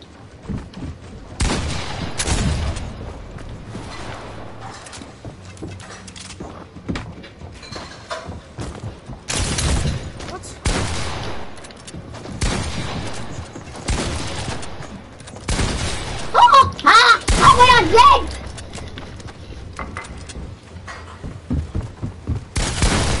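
A weapon in a video game fires sharp gunshots, single cracks and short bursts scattered across the scene, with brief talk between them.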